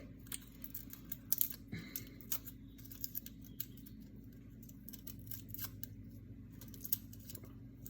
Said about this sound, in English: I'm going to cut three large cloves of garlic.